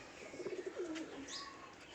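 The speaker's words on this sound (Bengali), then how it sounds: "তো এই জায়গায় আমার 10টা কবুতর আছে" Racing pigeons in a home loft coo softly in a short rolling burst, then a few faint chirps follow against quiet background hiss, no one speaking.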